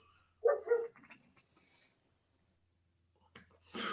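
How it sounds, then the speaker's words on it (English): A dog gives two quick barks near the start, followed by a few softer yips, then quiet and a faint later noise, heard during an online chat. "I can hear one of your dogs, Mitch."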